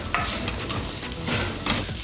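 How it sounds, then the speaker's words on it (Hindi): Chopped onion and green chilli cook into minced meat in a pan, a dense close sizzle broken by a few quick stirring scrapes, with no talking. "प्याज को कीमे में अच्छे से पका लेंगे।"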